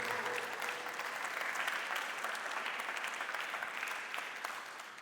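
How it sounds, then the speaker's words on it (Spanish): Steady applause from a church congregation during a sermon, fairly faint and even throughout with no voices over it, fading slightly at the end. "Denle un aplauso fuerte al Señor"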